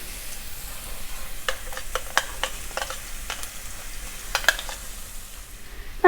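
Crushed garlic and chilies sizzle in hot oil for a vada mix, a steady close frying hiss broken by repeated sharp stirring scrapes and clicks at an uneven pace.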